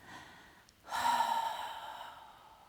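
A single quiet breath during a restorative yoga twist: a faint inhale, a short pause, then a longer audible exhale that fades out slowly, close to the microphone.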